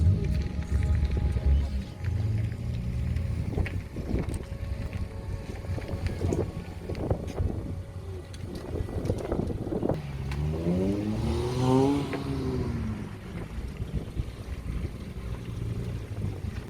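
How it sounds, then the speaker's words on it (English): Strong gusts buffet the microphone at a track day with low rumbling roar, rising and falling across the whole stretch, while a vehicle engine hums in the background. "it got more and more windy"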